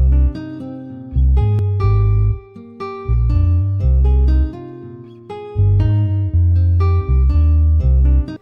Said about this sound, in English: I want to have the bass and the guitar to start the song